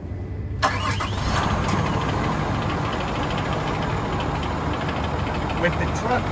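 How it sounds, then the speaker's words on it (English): Dump truck engine starting up after a brief silence, then settling into a steady, loud diesel rumble with broadband mechanical noise throughout. "Let me get the truck started first."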